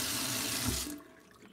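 Hot water gushes from a tap into a sink, a steady close hiss of running water that cuts off abruptly near the end, leaving quiet room tone.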